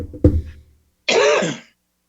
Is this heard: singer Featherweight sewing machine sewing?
no